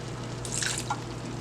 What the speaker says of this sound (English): we're going to add just a teensy-weensy little bit of water